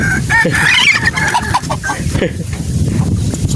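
Chickens clucking and squawking close by, a busy flock with overlapping calls over a steady background din, with no talk.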